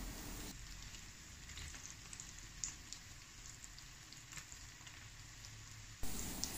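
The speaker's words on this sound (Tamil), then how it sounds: "ஃபிஷ் பாலையும் ஃபிஷ் கேக்கையும் 2-3 நிமிஷத்துக்கு மசாலா கூட நல்லா வதக்கி விட்டுக்கிறலாம்" Fish balls and fish cakes sauté in masala in a pan, giving a steady close sizzle and crackle with a few small pops, without talking.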